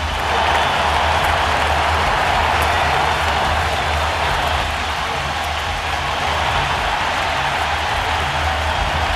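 A World Series stadium crowd roars steadily for a game-tying home run in Game 1 of the 2001 Yankees–Diamondbacks series, sustained loud cheering and applause calling the hitter out for a curtain call.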